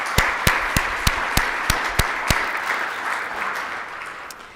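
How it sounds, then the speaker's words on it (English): A round of applause for sponsors at the Aspen Security Forum opening, with steady crowd clapping and a few sharp, rhythmic claps standing out near the front, fading slightly toward the end. "So let's give them a round of applause."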